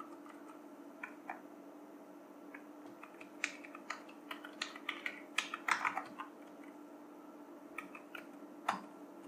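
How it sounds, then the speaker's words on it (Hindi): A password is typed on a computer keyboard in uneven runs of light, crisp key clicks. The typing is close and quiet over a low steady hum, with a final isolated tap. "इसके बाद हमें पासवर्ड टाइप करना होगा"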